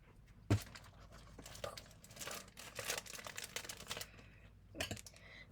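Scissors cut into a blind bag package of Sanrio toys at close range, with a sharp snip, then a run of crinkling plastic rustles and small clicks, ending in another quick snip.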